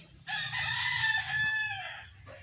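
A backyard rooster crows once in a long, loud, drawn-out call, close by, with faint farm noise underneath and no talking.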